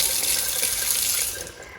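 Water runs steadily from a tap into a sink in a new craft studio space, a close, even hiss that eases slightly toward the end.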